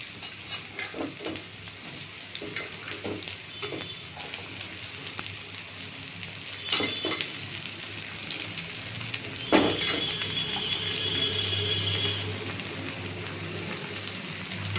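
Chopped bottle gourd drops into hot oil already frying green chillies and panch phoron, giving a crackling, rain-like sizzle with scattered stirring knocks and a sharper hiss partway through.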